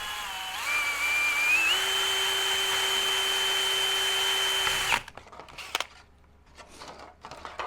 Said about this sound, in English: So I'm just going to drill these two little holes here.